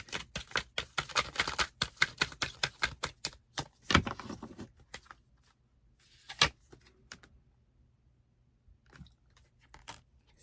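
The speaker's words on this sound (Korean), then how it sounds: "그럼 쌍둥이 분들에게 필요한 좋은 카드 뽑아볼게요." Tarot cards shuffled and drawn in a reading, with quick close riffling and flicking snaps in a dense burst, then a pause and a few isolated card slaps and taps, no voices.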